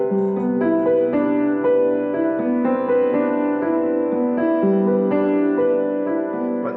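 Rich sustained piano major ninth chords ring out one after another in a slow, even progression, the voicing full and open with the added ninth on top.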